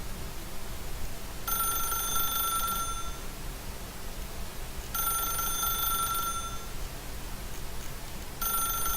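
A telephone in The Stanley Parable video game rings in repeated bursts, each electronic ring lasting over a second with pauses between, three rings in all over a quiet, hissy background.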